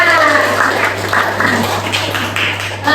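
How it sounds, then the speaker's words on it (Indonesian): Classroom students clapping after a group presentation on a recipe, a loose, moderately loud patter of hands with individual claps standing out, over a steady electrical hum. "Beri tepuk tangan."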